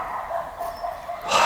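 A dog barks and yips in a classroom setting, fairly close, in short repeated bursts that grow louder toward the end.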